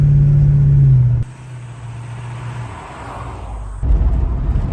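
A 1968 Pontiac Beaumont with a modified 5.7-litre 350 V8 accelerates, its loud low engine rumble dropping back to a steadier drone and then surging again, close and alone.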